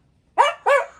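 A dog named Linus barks twice in quick succession out in hot hill country in the Algarve, sharp and fairly close, with nothing else audible in between.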